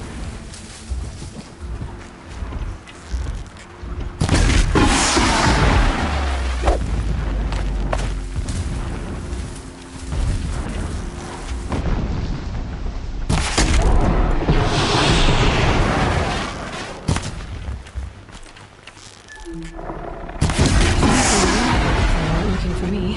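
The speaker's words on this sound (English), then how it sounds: "Explosions in the distance." Distant explosions in Horizon Zero Dawn, a series of deep booming rumbles that swell and fade repeatedly over a windy outdoor ambience.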